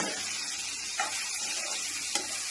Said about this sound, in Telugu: సో పర్లేదు, బాగానే వేగుతున్నాయి.